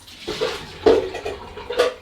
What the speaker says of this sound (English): So I'm going to do that now. Just pour it down my sink.